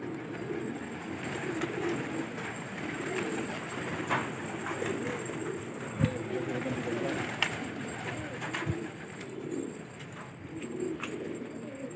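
Pigeons coo softly and repeatedly in the background, with faint clatters and rustling around them, on a rooftop where fighting pigeons are kept.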